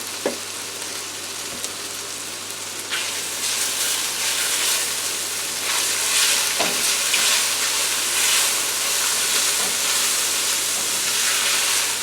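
Garlic, jasmine rice and vegetables stir-frying in a pan for a Thai-style spicy dish, a loud, steady hissing sizzle that swells partway through, with a few utensil knocks and no talking.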